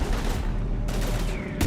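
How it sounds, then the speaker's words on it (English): Heavy gunfire in the Mass Effect 3 video game, a dense, continuous, loud barrage with sharp broadband bursts near the start and end. "we're taking heavy fire"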